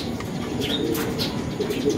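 Racing pigeons coming in at a loft, with a steady mix of soft cooing and chirps, faint wing flutters and background bustle throughout.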